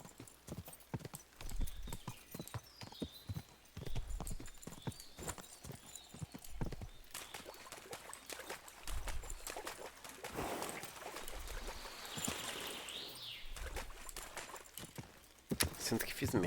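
A horse's hooves clip-clop at a steady trotting rhythm in the video game Kingdom Come: Deliverance II. The hoofbeats are close and continuous, with a brief whinny, while people talk over them throughout.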